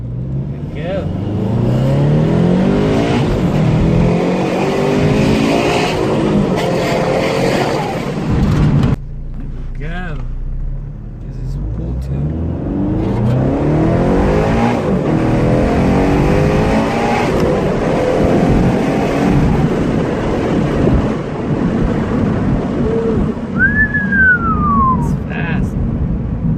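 A turbocharged automatic FT86 roars loudly on a dyno through long rising full-throttle pulls, with a brief drop around a gear change before it climbs again and then winds down.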